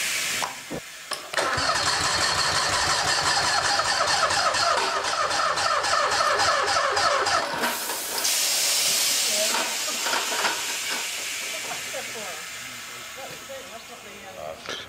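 An engine unit struggling to start on a cold morning, a loud mechanical churning with hissing and rapid pulsing that runs for several seconds, then settles into a steadier, gradually fading running sound, with people talking nearby.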